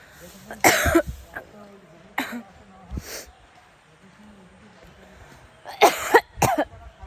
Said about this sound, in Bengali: আমার এত কাশি হচ্ছে